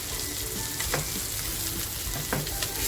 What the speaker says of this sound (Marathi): आपली मच्छी आहे ना एक बाजूने छान फ्राय झाली आहे